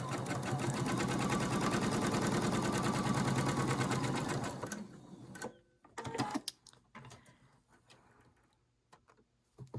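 A sewing machine stitches a lone star quilt block seam, running steadily and loud for about five seconds, then stopping, followed by scattered handling clicks and fabric rustles.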